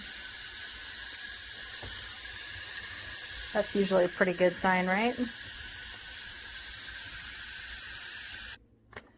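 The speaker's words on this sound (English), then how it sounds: "now that the steam is released, pressure's released" Steam hisses steadily from a pressure cooker releasing pressure after cooking beef stroganoff, a constant loud hiss that runs nearly the whole time before cutting off abruptly near the end, with someone speaking briefly over it.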